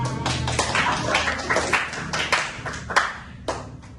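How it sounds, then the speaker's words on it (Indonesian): A group of students in a group counselling session claps together in a steady rhythm, several crisp sharp bursts with short pauses between, fairly close and loud. "Tepuk 1, tepuk 2, tepuk 3, tepuk 4, tepuk 5."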